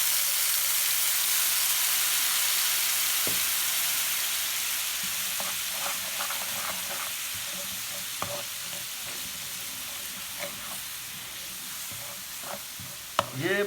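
Chana chaat mixture being fried in a pan, a steady broadband sizzle throughout with scattered clicks and light stirring scrapes, fairly quiet and with no voices.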